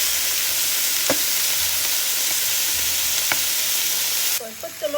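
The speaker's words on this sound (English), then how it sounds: "All right, I let them cook about 5 minutes. One side, then I stir them." Steak bites fry in a pan with a constant loud sizzle. A few faint clinks of stirring break through it, and the sizzle drops off at the end as the pan is disturbed.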